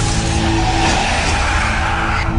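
A vehicle brakes hard and its tires skid in a loud, sustained screech, close and continuous for a couple of seconds without talk.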